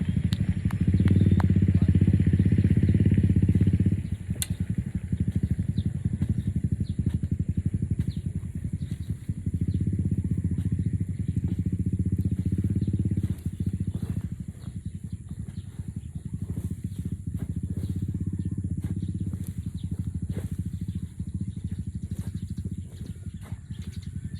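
A motorcycle engine idles and runs steadily at a farm, a loud, continuous low rumble close by for the whole stretch, with slight shifts in level and faint clatter over it.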